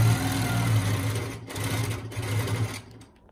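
A sewing machine stitches steadily during free-motion quilting of a block in the Granny Garden quilt, its close, even whirring hum pausing briefly twice before trailing off at the end.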